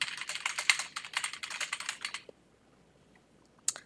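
A computer keyboard is typed on in a quick, steady run of close, crisp keystrokes for about two seconds, then goes quiet, with one sharp click just before the end.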